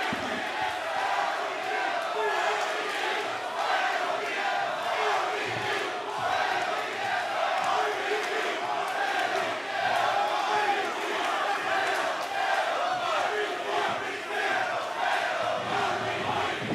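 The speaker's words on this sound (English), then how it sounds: "Let's listen to this crowd." Loud, dense crowd noise from a packed wrestling event, with fans cheering and roaring continuously throughout, steady and enveloping with no pauses.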